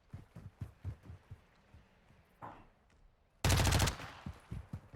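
Gunfire in a video game during strafing sounds as one loud burst of rapid shots, about half a second long, after quieter rhythmic thumps and brief soft noises.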